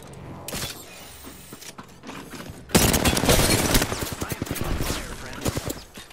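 Rapid automatic gunfire fills a loud Apex Legends firefight, bursting in abruptly and rattling on densely to the end. It is preceded by quieter mechanical clicks and clunks, and players' voices are mixed in.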